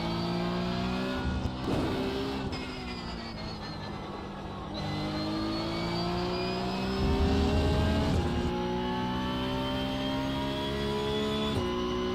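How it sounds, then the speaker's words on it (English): A pickup truck engine in a racing video game drones steadily and loudly, rising and falling in pitch through gear changes and shifts of throttle, with no talk over it. "Now switching to the pickup is interesting to drive."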